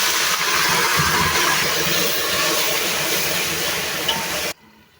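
Water poured into a pan of frying onions sets off a loud, continuous steam-like hiss and sizzle for several seconds before cutting off abruptly.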